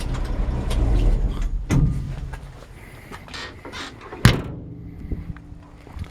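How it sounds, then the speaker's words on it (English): A 1954 Chevrolet 3100 shortbed truck's idling engine rumbles low, then cuts off, followed by a sharp door slam and quieter handling sounds. "I'll turn the truck off and then we can hear a little bit better"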